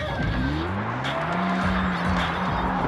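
A car in the Far Cry 4 video game revs its engine close up and screeches its tires, with a rising and falling motor pitch.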